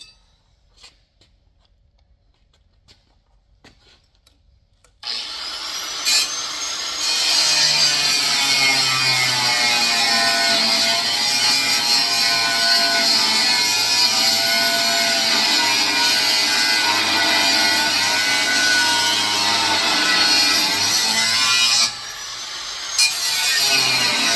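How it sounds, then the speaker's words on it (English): An angle grinder works across the surface of a Dodge Third Gen front brace, starting after about five seconds of near silence and running as a loud, steady, continuous whine for nearly twenty seconds before a brief dip and restart. "I run the grinder just on the surface along this"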